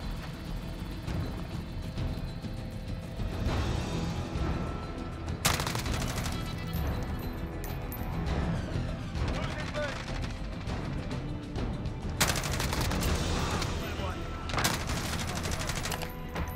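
Sustained bursts of Holger-26 light machine gun fire in Call of Duty Modern Warfare, with rapid automatic volleys over a busy game soundscape and a player talking throughout.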